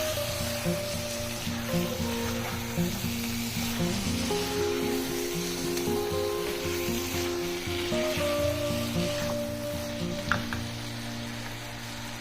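Chicken roast masala with pepper powder being stirred in a pan, a continuous moderate sizzle with occasional stirring scrapes and a faint steady hum underneath, without speech.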